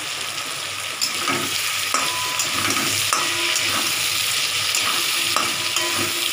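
Onion, potato and garlic fry in a pan for a spicy tangra fish curry, a steady close sizzle broken by several sharp spatula taps and scrapes, with no speech.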